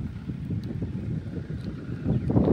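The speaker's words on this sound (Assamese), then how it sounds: "সুন্দৰ মলয়া বতাহ।" Pleasant afternoon breeze blowing outdoors, a steady rumbling wind that buffets the microphone, with gusts that strengthen toward the end.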